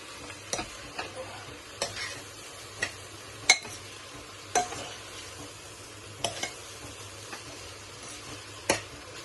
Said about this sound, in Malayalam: ആ പച്ചക്കറികളും ഈ അരി എല്ലാം കൂടെ നല്ലതായിട്ട് മിക്സ് ആകുന്നത് പോലെ നന്നായിട്ട് നമുക്ക് ഇളക്കണം